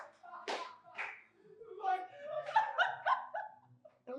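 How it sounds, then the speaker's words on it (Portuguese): A dog barks in a show jingle, with a couple of sharp barks up front followed by bright voiced, bark-like bursts and laughter-like sounds, fairly close and loud. "É um cachorro!"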